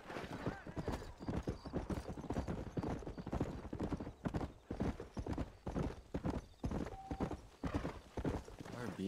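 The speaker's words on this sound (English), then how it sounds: "time to learn how to ride a horse again" Video game horse hooves from Red Dead Redemption clip-clop at a steady trot through the whole stretch, fairly close, with a brief whinny and some talk mixed in.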